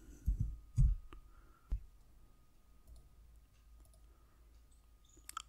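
Several sharp mouse clicks during Windows 11 disk partitioning, the first few louder and closely spaced, then sparser faint clicks in a quiet room.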